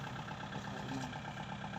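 A tractor engine idles with a steady, continuous rumble at moderate distance, unchanging across the short stretch with no voices.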